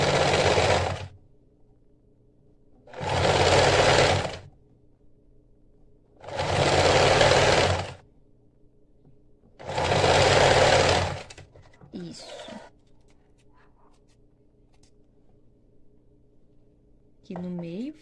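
A sewing machine zigzag stitching a bra cup runs in four short, even bursts of about a second each, separated by pauses, with faint handling noises afterward.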